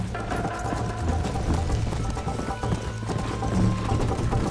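Horse hooves galloping in the video game Red Dead Redemption, a loud continuous rhythmic clatter of hoofbeats with a faint whinny and steady outdoor game ambience.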